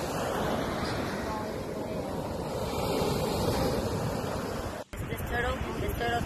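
Ocean surf washing onto a beach where a baby turtle is being released, a steady broadband roar of waves and wind buffeting the microphone, briefly cut near the end, with faint voices in the background.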